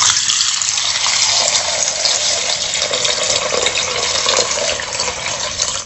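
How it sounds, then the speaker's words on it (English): Cold water gushes steadily into a bowl of fruit, a close, continuous pouring rush lasting several seconds before cutting off abruptly. "Take some cold water and pour over your fruit."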